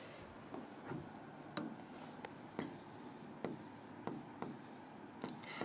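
A teacher writes on a board during a maths lesson, each stroke a brief scratchy tap in a steady, evenly spaced rhythm, close and clear over a faint room hum.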